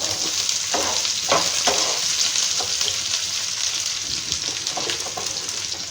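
Onions going into hot oil with ginger and garlic for chana masala crackle and sizzle loudly up close, a few sharp spatula scrapes punctuating the continuous frying, no talking.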